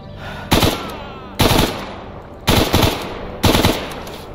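Machine gun fire in a STALKER-style first-person shooter mod: four loud, short automatic bursts spaced about a second apart, each a sharp cluster of rapid shots over a quiet rumbling background.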